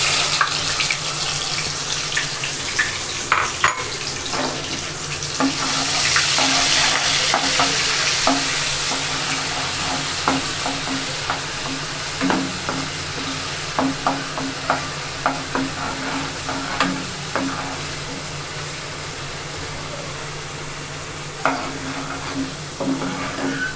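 Masala and fish sizzle steadily in a frying pan as the spicy bhuna fish is cooked, with frequent scraping stirs and clinks of the spatula throughout, close and fairly loud, with no talking.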